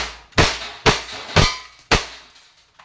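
An Umarex Glock 17 Gen 3 airgun fires four sharp, loud shots, close and evenly spaced about half a second apart, each with a crisp crack and a short ring.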